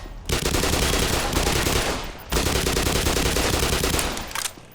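Sustained automatic gunfire from the Half-Life Black Mesa video game, loud, dense and close, in two long continuous bursts separated by a brief pause.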